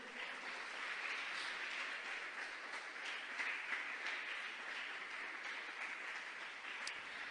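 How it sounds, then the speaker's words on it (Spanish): A congregation at a church anniversary service applauds, a soft, distant and steady patter of many hands that continues evenly throughout. "Dense otro aplauso"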